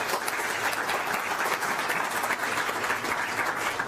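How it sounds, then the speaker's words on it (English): Dense, steady applause from a large audience at a trade and development conference plenary, continuous and even for the whole stretch. "can we please give him a round of applause?"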